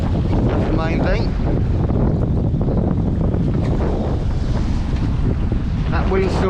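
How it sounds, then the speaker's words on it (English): Steady wind buffets the microphone aboard a small fishing boat off Hill Head near Southampton, a continuous loud rumble with faint water and brief voices in the background. "That wind still hasn't dropped."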